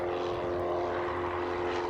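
Small propeller airplane flying over St. Louis, a steady droning engine hum with a strong tonal buzz, continuous and fairly close throughout.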